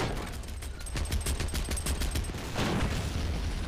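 A 20mm anti-aircraft gun fires in a battle in the video game Men of War, heard as a rapid burst of repeated shots over a low rumbling battlefield background, followed by a dull boom.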